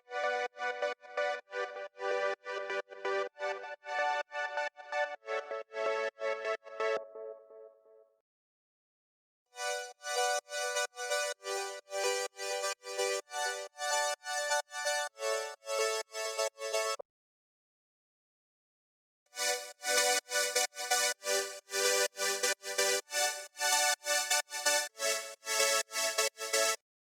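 Dense synth chords in stacked layers, made in FL Studio Mobile for progressive house, played in rhythmic bursts with two silent gaps between sections, bright and full.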